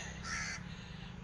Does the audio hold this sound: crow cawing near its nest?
yes